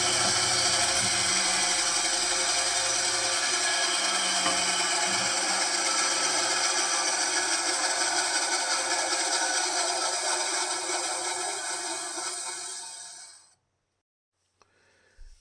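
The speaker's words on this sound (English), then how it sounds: "after taking a run through the router and a little light sand" A power router runs loud and steady along the edge of a guitar fretboard for a Telecaster-style guitar build, then winds down and stops near the end, leaving near silence.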